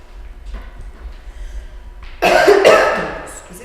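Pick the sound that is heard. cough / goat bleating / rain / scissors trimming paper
cough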